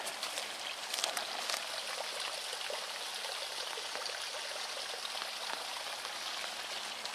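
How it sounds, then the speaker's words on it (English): A small stream, a tributary of the River Flit at former RAF Chicksands, flows with a soft, steady trickling wash, faint and continuous with a few light splashes early on. "I think we've got a little tributary of the Flit running down here."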